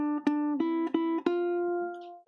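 A ukulele plays a second interval, two neighbouring notes plucked in a short run of clear, ringing strokes, with the final note left to sustain and fade alone.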